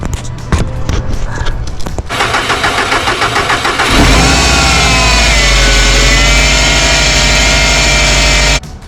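A Subaru WRX engine, just fitted with a new alternator and belts, cranks and catches, then runs loud and close at a steady idle with a faint whir riding over the drone until it cuts off near the end.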